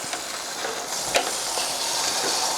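Cornish game hens sizzling on a hot Weber Q gas grill at about 350 degrees as they are turned over, a steady close hiss of fat and steam with a brief clatter partway through.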